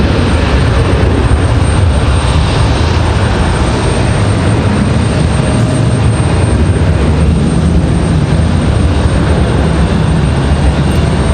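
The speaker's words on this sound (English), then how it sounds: "Sounds like one of our CRJs on the move." A CRJ regional jet moves about Raleigh-Durham International Airport, its engines a loud, unbroken broadband roar that holds steady throughout.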